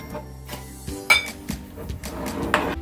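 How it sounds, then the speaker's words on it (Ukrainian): A metal whisk clinks against dishes in a home kitchen, producing a few scattered light taps and clanks over a low hum, close and fairly quiet. "Я вінчик достала."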